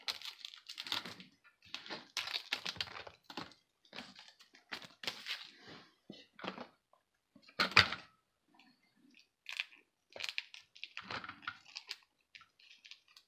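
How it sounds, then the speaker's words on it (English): Shiny plastic wrap being peeled off the bumpers of a TRX4 Bronco RC truck, heard as close, faint crinkling and tearing bursts in an irregular rhythm with short pauses between pulls. "Take our nice little shiny plastic wrap off our bumpers."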